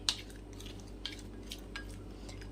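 Jhal muri being mixed with mustard oil from pickle, a few soft clinks and scrapes of a spoon against a bowl, quiet and close over a steady low hum.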